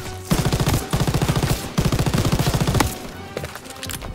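Machine gun fire in the World War 2 video game Call of Duty, with loud, rapid bursts of evenly spaced shots in three long volleys, then a quieter tail of scattered distant shots.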